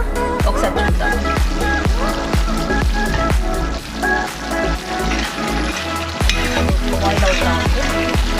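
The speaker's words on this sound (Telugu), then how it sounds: "బాయిల్ అవుతా ఉంది." Mutton dum biryani, Hyderabadi Telangana style, boils in a pot over a low flame, giving a loud, continuous bubbling sizzle over tonal background music.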